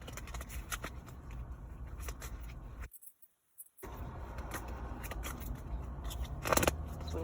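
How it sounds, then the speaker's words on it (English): Tarot cards are shuffled close by in quick, crisp riffles and flicks, with a short silent gap midway, then more papery shuffling. "Just want to give it a good shuffle."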